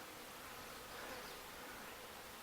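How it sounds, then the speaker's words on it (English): A continuous, faint buzzing drone of a swarm of bees around a hive, steady throughout with no voices. "And there's still a lot of bees there."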